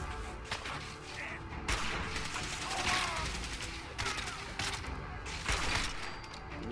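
Sniper rifle shots ring out in a Fallout 4 firefight against laser-armed robots, several sharp loud cracks spaced over a dense bed of game combat noise and background music.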